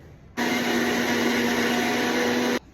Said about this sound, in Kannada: ರುಬ್ಕೊಳ್ಳೋಣ.